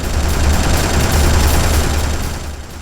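A tank fires projectiles in the Dreamcast game Red Dog, giving a loud, dense rapid barrage of blasts over a heavy low rumble that fades slightly at the end.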